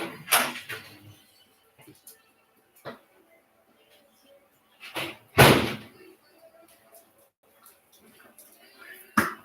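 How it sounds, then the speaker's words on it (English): A door slams shut after vegetable scraps are thrown out into the yard, a sharp loud bang standing out among quieter knocks and handling noises in a kitchen. "I'm going to throw this out the door."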